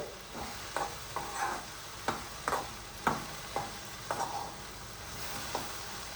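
Okra stir-fry being stirred in a pan: a soft steady sizzle runs underneath while a spoon scrapes and taps against the pan in a loose, regular rhythm, fairly quiet, with no talking.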